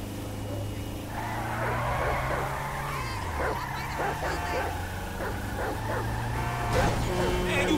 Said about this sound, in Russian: Чоп, вольная душа, он лает, когда хочет